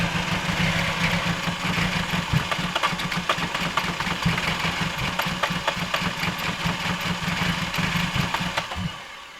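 A car engine cranking and running roughly on a cold day, loud and close, with a steady uneven chugging for about nine seconds before it cuts off abruptly.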